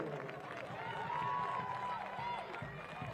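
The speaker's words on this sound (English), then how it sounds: "Zerenberg comes off to a massive round of applause." A soccer stadium crowd applauds a substituted player leaving the pitch, a steady roar of clapping and cheering under a commentator's voice.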